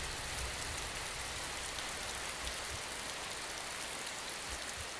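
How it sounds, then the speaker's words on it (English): Steady rain falls outdoors in an even, dense hiss, with occasional low thuds of drops striking nearby surfaces; no voices. "It started to rain."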